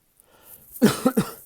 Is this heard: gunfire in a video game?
no